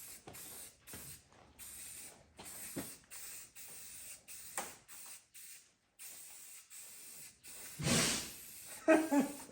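Foxbody Mustang subframe connectors are being spray painted in a garage: short hissing bursts from the spray can, fairly quiet and irregular, with a louder, longer blast near the end.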